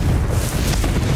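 Confringo fire-blast spell from Hogwarts Legacy, a dense, booming blast that fills the whole moment, loud and continuous with no pause or talk over it.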